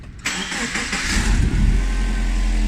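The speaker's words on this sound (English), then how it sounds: "the car's an exhaust leak, and it wasn't noticeable at first" A Subaru Liberty/Legacy engine with an exhaust leak idles steadily up close, with a rough low rumble and a faint hissing, puffing note running through it.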